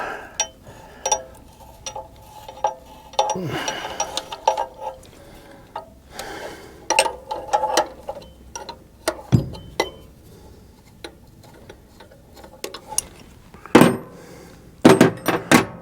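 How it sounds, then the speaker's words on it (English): Metal clinks and scraping ticks of a tubing wrench loosening line fittings on an M151A1 engine, scattered irregular taps and knocks close by, with a few louder clanks near the end. "I always try to use tubing wrenches for doing this kind of work. At least to get them broke loose"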